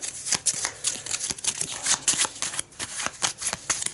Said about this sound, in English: So I'm gonna do a bit of a blind shuffle